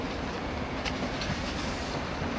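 A Southern service train approaching a London station platform, a steady loud rolling rumble of wheels on rails that holds throughout with faint clicks and no talking.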